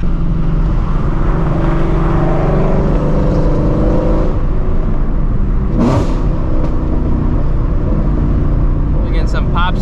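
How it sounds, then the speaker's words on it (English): A Shelby GT350's engine revs with a loud, steady drone, and a sharp exhaust pop cracks out midway, with people talking close by over the noise. "We're getting some pops and bangs action."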